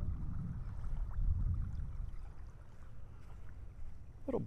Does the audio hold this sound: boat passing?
yes